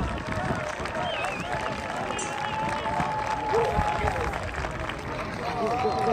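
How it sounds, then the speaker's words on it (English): Audience applause with cheering for the 2011-2012 state champion Hudson High hockey team at a Hall of Fame induction, a steady dense wash of clapping and crowd noise sustained throughout. "Let's give one more round of applause"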